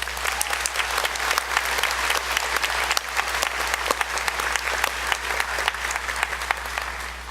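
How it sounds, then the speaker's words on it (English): Audience applause for nursing graduates at a fall pinning ceremony, a steady, dense clapping crowd filling the room at an even level from start to finish. "Please give these graduates a deserved round of applause."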